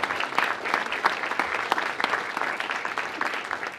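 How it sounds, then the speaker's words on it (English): An audience at a political event in Hudson County applauds with brisk, steady clapping, individual claps audible within a moderately dense crowd, continuing evenly throughout. "Can we give Alejandro a round of applause, please?"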